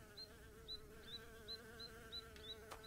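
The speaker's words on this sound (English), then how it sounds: "I think it's because there's the bees up there. It's making me nervous." Bees buzz in the video game Snufkin: Melody of Moominvalley, a faint, steady insect drone with small periodic swells under a quiet ambient background.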